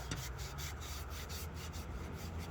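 Scotch-Brite pad scrubbing a motorcycle chassis during a rebuild, a quick run of soft rasping strokes, close but quiet over a low background hum.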